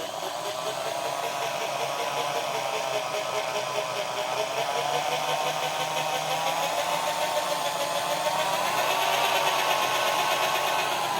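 A steady lathe headstock motor hum, TOS lathe, runs at low speed with a faint whirring texture, constant and fairly close, no voices over it.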